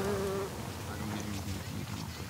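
Bees buzz around flowering Himalayan balsam in a nature reserve, a steady low insect hum that stays close and continuous, with a brief higher tone at the start.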